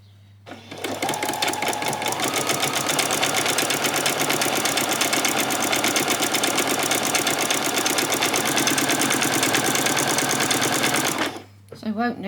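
A sewing machine runs steadily along a ruffle, one long continuous burst of fast, even stitching at close range for about ten seconds, starting and stopping cleanly with a few backstitch moments, with no talk over it.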